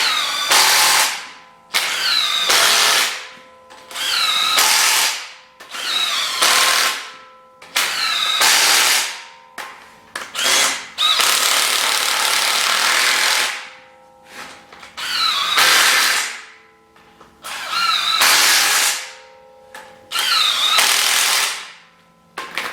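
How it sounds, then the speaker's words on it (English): A nearly dead impact gun runs down bolts on a 6.0-litre LS engine build: loud rattling bursts of one to two seconds each, about ten of them, separated by short pauses, with no talking. "This gun's about dead and it won't pull much past 20 anyway, so I just run them all tight."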